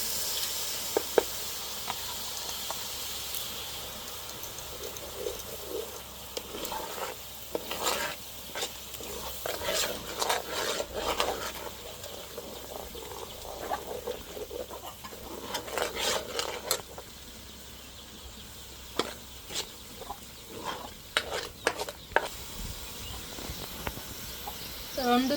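Garlic-ginger paste sizzles and hisses steadily in a frying pan for a long stretch, broken up by repeated scraping and rasping strokes of stirring. Bursts cluster near the middle, and faint talk is heard at times underneath.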